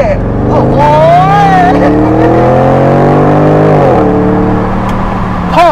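Engine of a Bentley Continental GTC convertible revs hard and loud up close, its tone climbing and sustaining before easing off, with an excited voice exclaiming over the roar.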